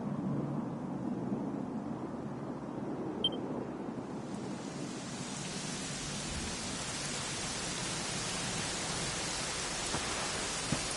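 Steady broadband rain hiss in Dragon Quest XI fills the whole clip, soft and continuous, with the downpour growing denser and brighter partway through.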